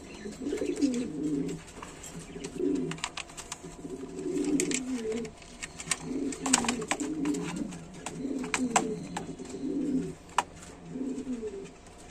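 A pair of black king pigeons coo steadily at close range. The soft, throaty calls repeat in a continuous rolling pattern, with faint clicks and rustles from the birds moving about.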